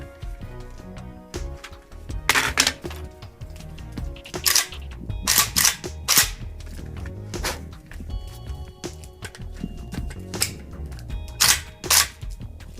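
Zastava O-PAP rifle firing at an outdoor range, with several sharp, loud reports spaced a second or two apart, some in quick pairs, over a steady background hum.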